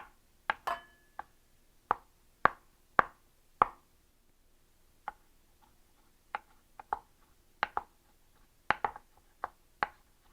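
A knife chopping large shiitake mushrooms into bite-sized pieces on a board, a quiet kitchen scene of sharp, irregular taps, some single and some in quick pairs, with short pauses between them.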